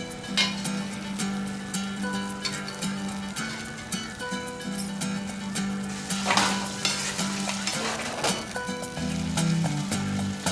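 Pieces of salt cod sizzle and fry in a pan of pizzaiola sauce, a steady close crackle with occasional stirring scrapes and no talk.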